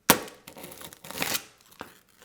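Knife cutting through the hard sugar coating of a candy apple, a sharp crack followed by a few crunchy, crackling breaks, close and fairly quiet.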